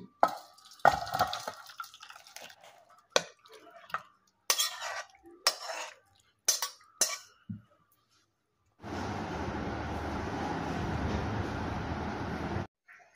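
Cooked soybean curry is handled in a pan in a home kitchen: a spoon scrapes and clinks against metal in short bursts, then a steady, dense rush follows for about four seconds as the curry pours out.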